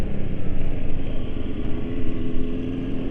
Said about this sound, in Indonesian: CB400 itu 4 silinder ya, jadi suaranya ya mirip-mirip Ninja, walau RPM idlingnya nggak tinggi ya.